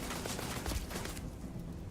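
Rapid turret gunfire bursts in the space game Starfield, a dense crackling volley in the first second that thins into quieter scattered shots, with no talking.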